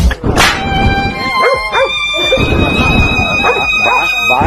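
Two dogs barking, yelping and whining while harassing a horse, agitated overlapping yips close by over background music with a steady tone.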